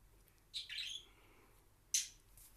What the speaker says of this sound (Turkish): Kuş var pardon.